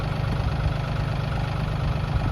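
A farm tractor engine idles steadily, a continuous low rumbling drone that holds even throughout, close and unbroken, with no talk.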